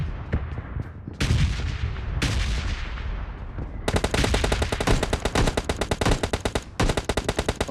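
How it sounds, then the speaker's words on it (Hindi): Loud bursts of gunfire in PUBG Lite: a few shots and short volleys, then sustained rapid automatic fire with brief pauses, close and dominant. "बॉट पे बेरहमी से गोलियां चलाई है"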